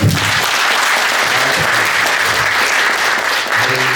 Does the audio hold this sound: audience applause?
yes